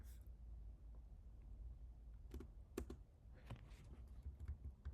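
Quiet, scattered keystrokes on a computer keyboard, a few soft clicks spaced irregularly over a low background hum, with no talking.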